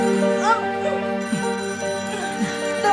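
Telephone ringing with a repeating electronic ringtone, steady tonal pulses throughout, with voices talking over it.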